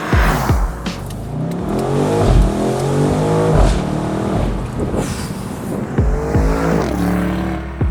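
A 2023 BMW M850i convertible engine, top down, revs hard and loud, pitch climbing and dropping through several gear changes as it accelerates close by.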